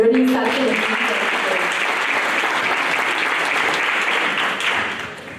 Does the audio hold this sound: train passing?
no